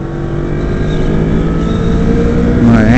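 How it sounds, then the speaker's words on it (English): A small motorcycle's engine drones steadily and loudly up close, its pitch rising slightly as it labours up a hill, with no talking over it. "I'm anxious to see how well this bike can handle this hill."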